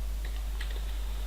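Typing on a computer keyboard while coding a MERN stack app, with a few faint scattered clicks over a steady low hum, quiet and close.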